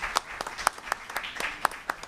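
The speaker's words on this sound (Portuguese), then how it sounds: "para quem eu peço uma salva de palmas" Scattered, fairly quiet claps ring out from a small group at a public commission hearing on terreiro accessibility, with individual sharp slaps standing apart in an uneven rhythm over faint room murmur.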